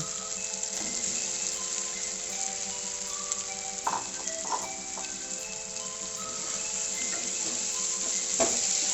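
Young jackfruit pieces tip into hot spice paste and oil for a prawn curry, setting off a steady close sizzle with soft clatters and scrapes of stirring, no voices.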